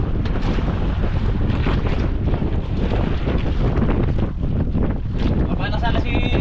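Strong wind buffeting the microphone in a constant loud roar, with water and boat noise underneath and a brief voice near the end, out at sea during a spearfishing trip.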